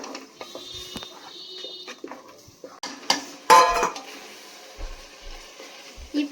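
Ginger garlic paste being stirred in a chicken biryani pot, with metal spoon scrapes and clanks against the vessel, a soft sizzle beneath and a few sharper knocks.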